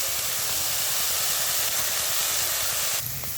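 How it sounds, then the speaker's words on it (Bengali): Salted vegetables frying in a pan for veg chicken chowmein give a continuous, fairly loud sizzling hiss, steady throughout and cutting off sharply near the end. "চাউমিন বানাতে সমস্ত সবজিগুলোকে সুন্দরভাবে ভেজে নিতে হবে"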